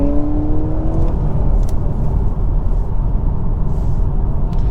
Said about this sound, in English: And we do have to try an acceleration.